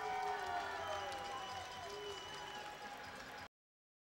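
Arena crowd at a minor-league ice hockey game roars and cheers in a sustained, distant wash of noise that fades slightly before cutting off abruptly.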